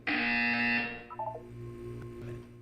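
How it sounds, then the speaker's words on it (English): A loud, steady electronic buzzer in the video game Portal 2 sounds for almost a second, then cuts out, leaving a few quick blips over a low background hum. "You will hear a buzzer."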